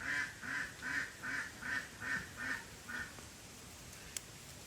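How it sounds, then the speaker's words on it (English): A duck at a farm animal sanctuary quacks loudly in a steady run of about eight evenly spaced calls, then falls quiet, leaving faint background hiss and one small click. "That duck is a loudmouth over there."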